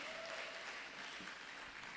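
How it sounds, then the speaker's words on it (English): Applause from a summit audience honouring a speaker, a steady dense wash of clapping throughout, fairly faint and even with no talk over it. "Can we give her a round of applause, please?"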